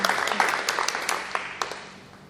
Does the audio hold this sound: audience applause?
yes